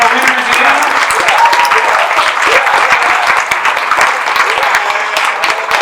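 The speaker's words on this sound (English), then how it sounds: "Let's give a round of applause for all our winners again." Sustained audience applause for the winners of a special needs talent showcase, dense steady clapping from a large crowd filling the room at full volume without a break.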